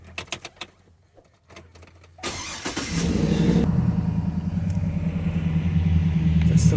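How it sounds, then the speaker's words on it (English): A 2009 Cadillac Escalade's A/C heater blower fan starts after a few light clicks, then runs as a steady, close whooshing roar that slowly builds in strength, with no talking. "that makes me believe that what is making the noise is the fan itself"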